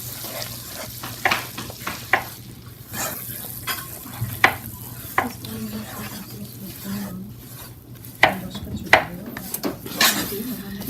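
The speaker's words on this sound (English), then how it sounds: "After the butter has melted, add 1 cup of flour to the melted butter and stir." Flour being stirred into melted butter in a pan for béchamel sauce, with repeated sharp scrapes and taps of a utensil against the pan over a low steady sizzle and hum.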